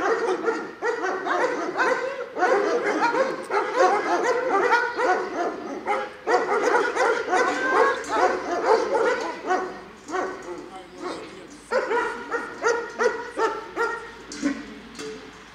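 Military mine-detection and search-and-rescue shepherd dogs barking repeatedly in rapid, overlapping bursts, loud and close, with occasional yips and whimpers throughout.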